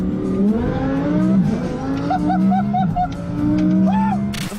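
A Lamborghini Huracan Performante engine revs loudly and continuously, its pitch climbing and falling in repeated sweeps with a brief higher rise near the end.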